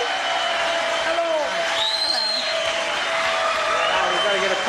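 Studio audience applauding briskly for two contestants on a 1984 television game show, a steady wash of clapping with a faint whoop, partly overlapping a host's talk.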